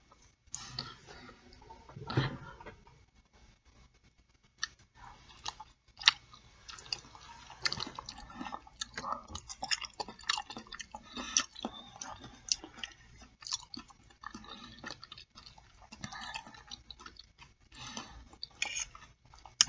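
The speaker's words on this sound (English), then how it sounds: "there will be smacking, chewing, and all of those beautiful sounds that it comes along with eating" Close, quiet chewing and wet smacking while eating a plate of three pork chops on bread with vegetables, steady irregular mouth sounds with occasional clicks and no talking.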